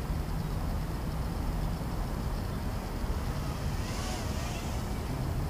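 FullSpeed BAT-100 micro drone motors at full throttle on a 1S battery, a steady, dense whir that holds loud and unbroken throughout, with a rushing, wind-like edge.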